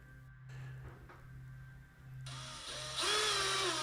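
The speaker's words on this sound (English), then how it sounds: "To remove the head of the rivet. I wobble the drill there slightly." A power drill with an enlarged bit cuts the head off a rivet on RV-14 aircraft wings, a quiet hum rising into louder whining bursts near the end.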